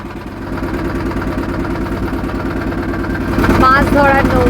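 A motor boat engine chugs on the Ganges near Chakdah, a close, rhythmic low throb that grows louder toward the end, where a few brief higher tones cut in.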